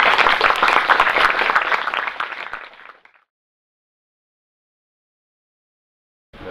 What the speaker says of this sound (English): Give her the applause.